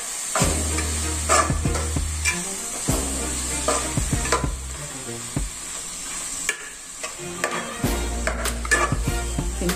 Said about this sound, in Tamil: குழம்பு பொடி நல்லா வதங்கட்டும்.